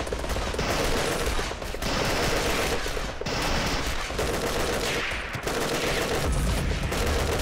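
Dense, continuous volleys of gunfire rage with only brief dips throughout a Vietnam War video game battle involving machine guns and mortars, loud and close with no pause in the shooting.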